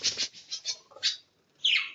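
A gentle pet bird, a small bird kept indoors in a cage, gives a quick series of bright chirps and tweets, then a short pause and one louder final call, close by.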